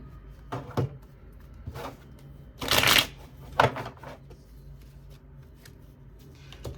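Tarot cards being shuffled by hand, with several brisk riffling bursts, the loudest in the middle, between quieter pauses, close up and with no talking.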